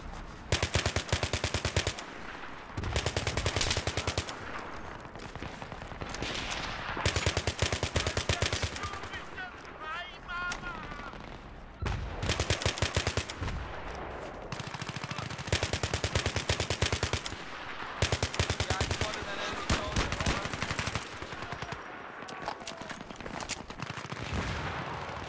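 Bursts of automatic and single gunfire in the video game Battlefield 3 crack loudly and almost continuously in dense repeated volleys, with brief quieter gaps and faint voices beneath.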